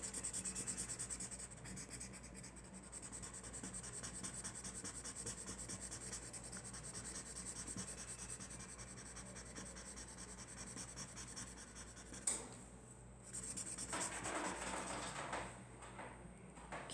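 Pencil shading across paper makes a faint, continuous rhythmic scratching rub, close and quiet, briefly interrupted by a pause and a sharp tap before the strokes resume.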